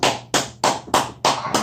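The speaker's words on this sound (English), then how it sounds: "Let's clap it up for the ancestors." Six sharp, evenly spaced claps or taps ring out alone, close and loud, each a crisp burst with a quick decay, in a casual studio setting.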